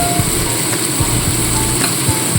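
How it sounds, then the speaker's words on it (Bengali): A paste of ginger, garlic and green chili fries in a pan while it is cooked down for a fish dish. It gives a loud, continuous sizzle with a few soft scraping stirs, close up and without voices. "2 মিনিট একটু কষিয়ে নেওয়ার পরে এখানে আমি দিয়ে দিচ্ছি আদা রসুন ও কাঁচা লঙ্কার পেস্ট।"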